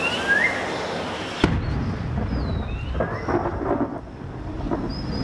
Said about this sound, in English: In December, storm clouds gather, heralding the start of the heavy rains.